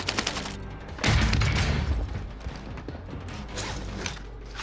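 Bursts of rapid video game gunfire, a dense fusillade with heavy low rumble in the middle, surrounded by scattered shots and mechanical clatter.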